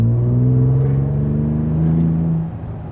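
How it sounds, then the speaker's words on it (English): A V6 Toyota Tundra pickup with a Carven aftermarket exhaust pulls hard at wide open throttle, a loud, close, deep drone that holds steady and then eases off near the end, with no talk over it. "this exhaust at wide open throttle, it sounds honestly mean"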